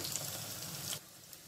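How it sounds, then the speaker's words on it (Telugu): Curry leaves, onion and dried chillies fry in hot oil over a medium flame, tempering for a fenugreek-greens dal. A steady close sizzle and crackle runs throughout, easing slightly near the end, with no talking. "ఇప్పుడు ఈ పోపు బాగా వేగాలండి, అప్పుడే మనకు పప్పు కమ్మగా ఉంటుంది."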